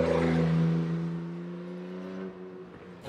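A 2020 BMW X6 engine while driving, a smooth steady hum with a tonal drone that slowly fades, heard from inside the cabin with no talk.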